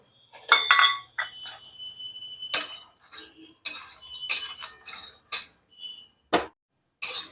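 Fox nuts (makhana) dry-roasting in a pan on low heat give sharp, irregular clinks and rattles, separate light hard taps with short pauses between them.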